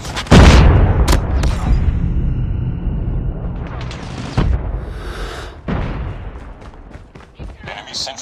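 Grenade blasts in Call of Duty Mobile multiplayer: a loud, close boom followed by two more heavy detonations a few seconds apart, with rumbling debris and gunfire in between and shouted voices over the action.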